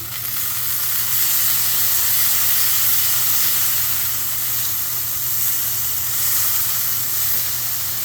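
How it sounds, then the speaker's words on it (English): A beef roast that was cooked sous vide, now searing in a hot pan, gives a steady loud sizzle and hiss that holds evenly throughout with no talking. "So I'm continuing to sear."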